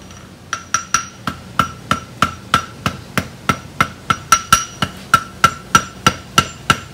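Hammer strikes on a heated hook tip being drawn into a taper at the forge, about twenty sharp ringing blows in a steady, fairly quick rhythm, close and loud, with no talking.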